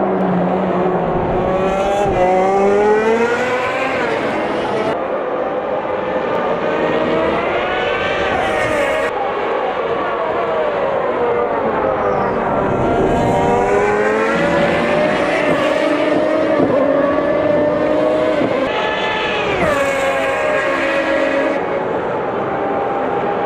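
Gen 1 F1 HiTech cars racing at Interlagos in Automobilista 2, loud continuous engine wails rising and falling through gear changes as cars pass, with no talk.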